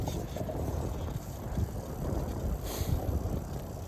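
Someone riding a bicycle outdoors on a cold day, heard as constant low rumbling wind buffeting against the microphone along with road noise, loud and steady throughout, with no clear voices.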